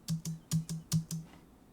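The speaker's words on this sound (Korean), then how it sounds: "여기서 제가 한번 스페이스바를 눌러볼게요" A computer keyboard's space bar is tapped six times in quick, slightly uneven succession, each press a crisp close-up thock in a quiet room.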